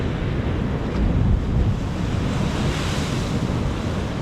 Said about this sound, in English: you can see the water hitting up against the rocks